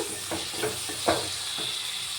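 Chopped tomatoes frying with onions in a pan for an ivy gourd curry, a soft steady sizzle broken by a few short scraping stirs, close and alone.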